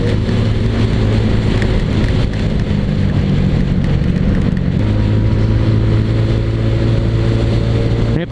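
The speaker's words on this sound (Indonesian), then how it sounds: "Kena hujan becek-becekan. Duh, kok tambah deres ya?" Heavy rain pours steadily onto a wet road during a motorcycle ride, a dense continuous hiss over a low engine drone that shifts pitch partway through, with no talking.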